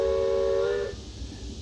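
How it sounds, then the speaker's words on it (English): Steam locomotive whistle sound effect from a Bachmann Big Hauler 4-6-0 model train with a RailPro battery remote control, a clear steady multi-tone whistle blast that cuts off sharply, leaving a low rumble. "We have the whistle,"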